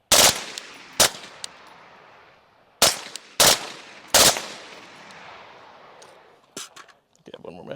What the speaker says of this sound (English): That's just bump fire.